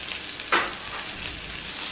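Chicken breast pieces frying in a pan, a steady soft sizzle with one brief louder burst of spitting near the start, no voices.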